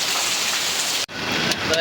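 Rain falls as a steady, dense hiss of drops on surfaces, with one brief gap midway before the rain resumes.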